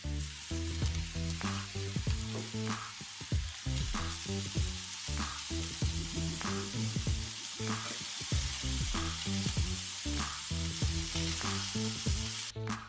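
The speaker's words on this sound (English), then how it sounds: "Fry them on both sides and check if they are well cooked in the middle." Meatballs frying in a pan, a constant loud sizzle close up with regular scraping and turning knocks at intervals under steady background music, no voices.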